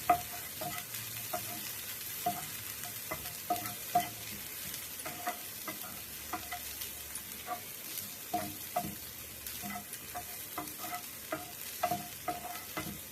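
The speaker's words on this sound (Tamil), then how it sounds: "இந்த எண்ணெயிலே வந்து வெங்காயத்தால வதக்கி மேலே போட்டுடலாம்." Onions fry in oil with a steady soft sizzle, punctuated by repeated scraping and clinking of a spoon stirring the pan, close and fairly quiet.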